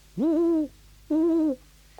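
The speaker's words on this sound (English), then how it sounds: "It's two owls, or two birds anyway." Two long, clear owl hoots a second apart, each a steady tone that rises and then falls, heard alone against a quiet night background with a faint hum.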